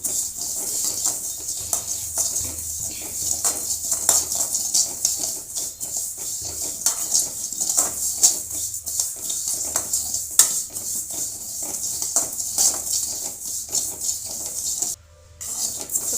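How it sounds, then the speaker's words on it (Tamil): Fennel seeds dry-roasting in a pan, stirred steadily with a spoon, giving a continuous close scraping and rattling hiss with small clinks against the metal, alone with no voices. "சோம்பு நம்ம நல்லா வறுத்து எடுத்துக்கலாங்க."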